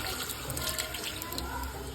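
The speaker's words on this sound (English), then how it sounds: "and some pasta water" Pasta water is poured into a chicken alfredo sauce made with heavy cream, a soft continuous trickle and splash heard faintly and alone for about two seconds.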